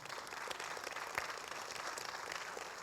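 Congregation applauding during a church service, a fairly faint but continuous wash of many hands clapping with no talk over it.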